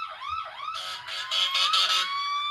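A loud wailing siren, sweeping up and down before switching to a faster rising-and-falling tone, close by with no talking.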